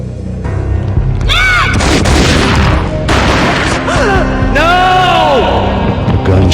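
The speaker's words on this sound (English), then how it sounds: "A gunshot boomed and she fell down in slow motion." Booming gunshots and heavy gunfire in the Max Payne Mobile action game's final scene, with loud sustained impacts and rumble over a dense score and dramatic vocal-like tones throughout.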